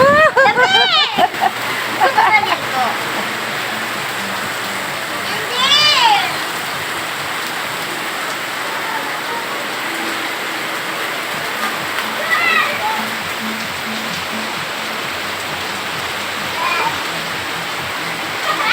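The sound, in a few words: heavy rain from Typhoon Carina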